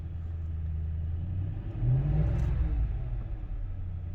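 A Lincoln Town Car engine idling just after a cold start in extreme winter cold in Illinois, a steady low rumble that swells briefly in a light rev before settling back, close by with no talking.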